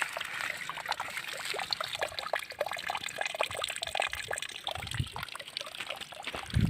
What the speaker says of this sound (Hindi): हैंडपम्प से पानी अपने आप ही गिरता हुआ।